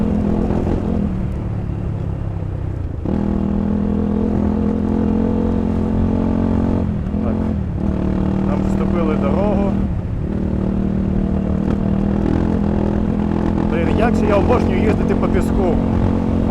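A KOVI LITE 300 motorcycle riding through a forest gives a close, steady engine drone with small shifts in revs. It runs continuously for most of the ride after a brief rougher start.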